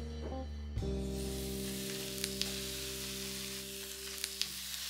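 Chicken and shrimp skewers cook on a very hot grill, giving a steady soft sizzle with a few faint ticks. A low electrical hum is heard throughout, and no one speaks.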